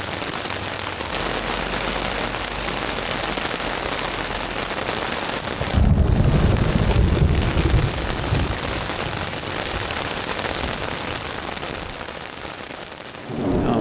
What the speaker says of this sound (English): I'll leave you with the wonderful sound of rain on a tent rain flag.